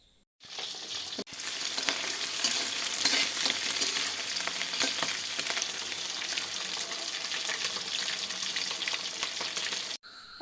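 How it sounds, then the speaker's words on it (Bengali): Chicken pieces deep-frying in hot oil for an afternoon snack give off a loud, steady sizzle that fills the space nearly without pause, briefly dipping near the start and end. "তাই চিকেনগুলো আগে ভেজে নিচ্ছি"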